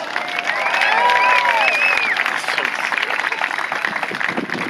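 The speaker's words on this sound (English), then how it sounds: "Let's give him a big round of applause" Crowd at a Moparty stunt show at Beech Bend in Bowling Green claps and cheers in a loud, sustained outdoor round of applause, with scattered whistles rising above it.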